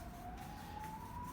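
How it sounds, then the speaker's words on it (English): A police siren wails faintly in the distance outside, its single rising tone drifting slowly upward, thin and steady beneath a broad wash of background hiss. "It's like a, I don't know, police car or something."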